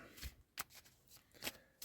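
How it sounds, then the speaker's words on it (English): Tarot cards being shuffled, a few quiet separate riffling snaps close by, spaced irregularly over a short span with faint background. "Give these a shuffle up, move them around a bit."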